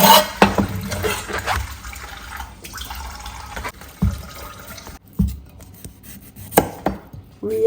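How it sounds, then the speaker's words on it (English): A knife chops yams into fry shapes on a board in a series of irregular, close, distinct cuts and taps, with water-like rustles in between. No one speaks. "we are cutting our yams into like a shape like fries"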